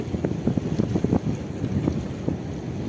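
Strong stormy gusty wind with rain buffets the microphone with low rumbling roars at the Digha estuary, and faint water and surf sounds mix in underneath.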